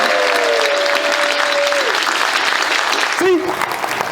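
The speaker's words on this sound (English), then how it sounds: "So a round of applause because Chris saved their night." Applause from couples at a marriage retreat, a full, steady clapping that rises over a fading sustained tone and gives way near the end to a brief voice.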